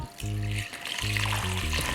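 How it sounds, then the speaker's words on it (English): Filtered water streams steadily onto soaked rice and pulses, a continuous splashing pour over a low background hum. "all you have to do now is add in some filtered water."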